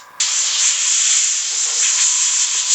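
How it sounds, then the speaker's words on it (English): An airbrush sprays high flow acrylic paint, a loud steady close hiss that starts abruptly and runs unbroken for nearly three seconds before cutting off. "I preferably like to do airbrushing."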